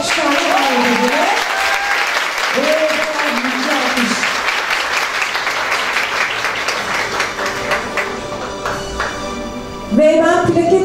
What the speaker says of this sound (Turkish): İlknur Bozkurt alkışlarla davet ediyoruz